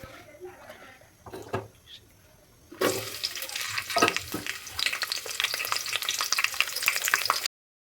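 Onion dropped into hot oil in a pressure cooker bursts into a loud, steady crackling sizzle after a few quiet clinks and handling sounds, holding until it cuts off.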